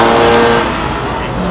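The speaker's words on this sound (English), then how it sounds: "Audi R8's coming through." An Audi R8 supercar accelerates past at a supercar launch event, a loud sustained engine roar with crowd noise close behind.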